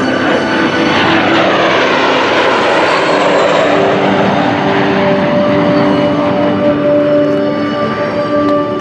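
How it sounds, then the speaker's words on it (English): A Soviet MiG-17 and a T-33 Shooting Star pass together at an air show, a loud, sustained jet roar filling the whole stretch with a steady, broad rumble and faint tonal whine, no talk over it. "From the left, in the lead, the Soviet MiG-17. And on the wing, the ace maker, the T-33 shooting star."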